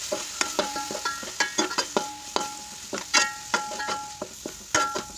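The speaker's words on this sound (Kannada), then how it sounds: "ಶುಂಠಿ ಬೆಳ್ಳುಳ್ಳಿ ಸ್ಮೆಲ್ ಹೋಗೋ ಗಂಟ ಚೆನ್ನಾಗಿ ಫ್ರೈ ಮಾಡ್ಕೊಳ್ಳೋಣ" Onion and ginger-garlic paste frying in a pan while a spoon stirs and scrapes it, giving a steady sizzle broken by frequent sharp clinks of the utensil against the metal.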